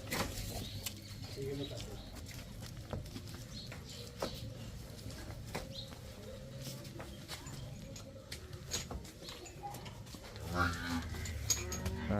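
Cattle on a dairy farm with cows for sale make low lowing calls scattered through steady outdoor farm ambience, with birds faintly in the background and a slightly louder stretch near the end.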